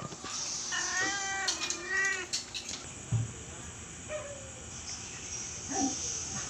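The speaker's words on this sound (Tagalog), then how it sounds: "Stray cats yan." Stray cats meowing outdoors, a few drawn-out plaintive meows near the start and fainter short mews later, over steady background noise and hiss.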